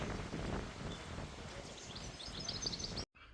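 Low, steady wind rumble buffets the microphone outdoors by a lake in South Australia, with faint rustling and a few distant bird chirps, ending in a sudden cut.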